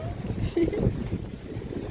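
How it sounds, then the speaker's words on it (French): Wind blows on a palm-lined coast, a steady rushing buffet across the microphone with a French-speaking voice talking over it. "Il y a un peu de vent, mais bon après c'est normal, c'est la côte"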